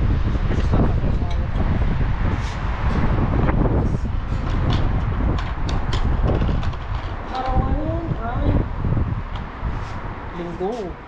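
Strong wind gusts across an open rooftop where laundry is being hung, a steady roaring rush buffeting the microphone, with a voice talking over it.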